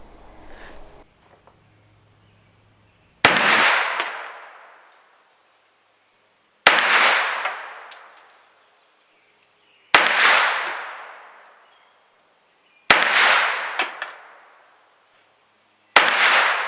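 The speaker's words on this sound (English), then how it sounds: "we're going to send some rounds downrange" A PSA AK-V rifle firing Hornady Critical Duty ammunition on a range, five loud, sharp shots spaced a few seconds apart, each with a long decaying echo, with no talk.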